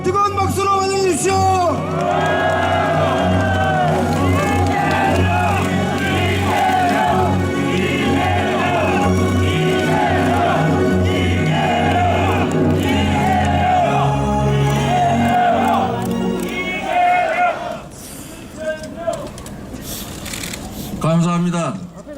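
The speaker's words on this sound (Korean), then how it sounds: "뜨거운 박수로 환영해 주십시오." A crowd at a political rally where a candidate declares a presidential bid, cheering, whooping and applauding loudly and continuously for about seventeen seconds before the noise drops away to scattered sounds and a final burst.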